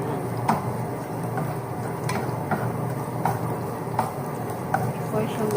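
Garlic stir-frying in a pan for chopsuey, a steady broadband sizzle with occasional sharp ticks of a utensil stirring against the pan, close and continuous throughout.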